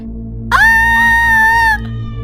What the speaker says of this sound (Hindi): ये देखकर वो जोर से चिल्लाई।